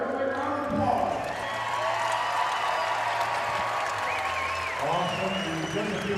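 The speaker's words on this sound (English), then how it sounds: "Give them a round of applause." A crowd at a Las Vegas archery championship gives the top finishers a round of applause, a broad sustained clatter with a voice speaking over it through a public address system.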